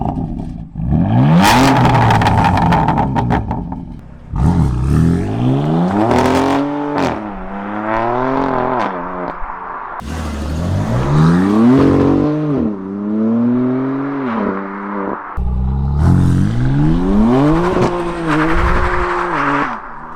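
A 450-horsepower BMW engine revs hard several times, each burst climbing sharply in pitch and falling back, loud and close with brief gaps between the pulls.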